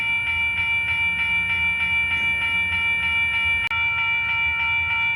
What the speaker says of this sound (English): some noises coming from the train